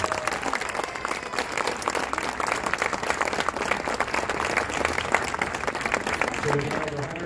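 Audience at a Cardinals Care grant presentation ceremony clapping in a continuous, even round of applause, with a voice faintly audible beneath it.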